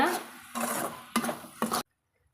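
Coconut burfi mixture stirred in a pan over medium heat, a few bursts of scraping and stirring with soft sizzle, then sudden silence.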